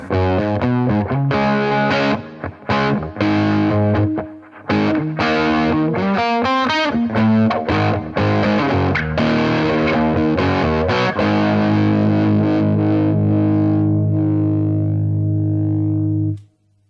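A Zander Circuitry Cranium distortion pedal running with no clipping diodes, so the guitar comes through loud and smooth: choppy chords and quick riffs, then a long sustained chord that rings out and cuts off.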